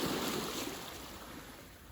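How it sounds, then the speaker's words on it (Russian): Waves wash continuously on Lake Ladoga in Karelia, a steady broad surf rush that is slightly stronger at the start, heard at moderate distance with some wind and no talking. "О, волны пошли такие."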